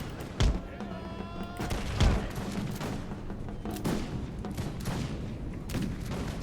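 Musket volleys in the Imperial Splendour mod battle game, with several sharp cracks and thumps ringing out over a continuous background of distant battle noise.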